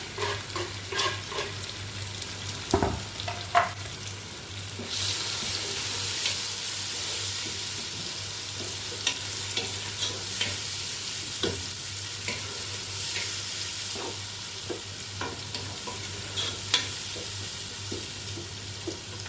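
Chopped tomatoes frying in a pan as they are stirred, a continuous sizzle with repeated spoon scrapes and clatters against the pan, a sharp knock near the start, no voices.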